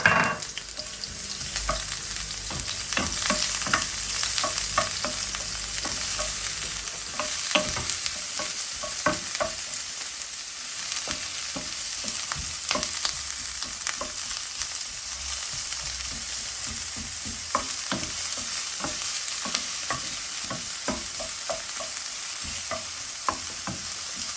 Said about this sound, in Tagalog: in the same pot, igigisa na natin yung ating onions, garlic